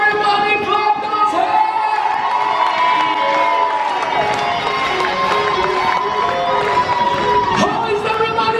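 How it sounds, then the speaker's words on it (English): A lively cruise-ship audience at a comedy show cheers, whoops and claps, with loud crowd noise and shouting voices filling the space continuously, some people talking amid the din. "Now, I'm gonna need you to make a big round of applause."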